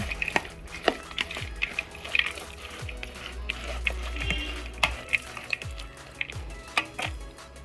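A spoon stirs sweet boondi mixed with sugar syrup, roasted cashews, raisins and cardamom powder in a bowl, giving soft wet scraping and repeated light taps close by, with no talking.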